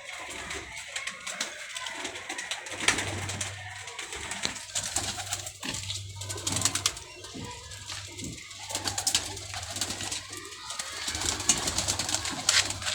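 Pet pigeons kept in pairs coo repeatedly up close, soft throaty calls in an uneven rhythm over a low steady hum, with no talking.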